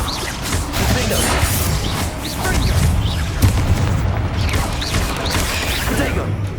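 Confringo fire spells bursting in the Hogwarts Legacy video game, a dense run of booming, crackling blasts that overlap and keep going steadily, loud throughout, with a brief sharper impact partway through.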